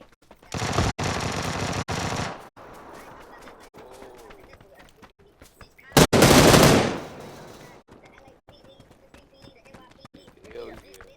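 Video game shotgun blasts during a violent shooter livestream, two long loud bursts of firing separated by quieter stretches of game sound and clicks, with a voice talking faintly in between.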